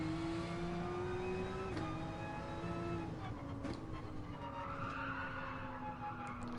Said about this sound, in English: See, oversteering the car, you can tell that by the tortured sound of the tyres.